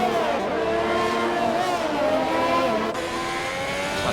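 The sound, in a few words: Alfa Romeo race car engine in racing video game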